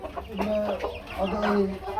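Brahma chickens and roosters cluck on a farm, with several overlapping birds heard up close in short, busy calls over a continuous background murmur.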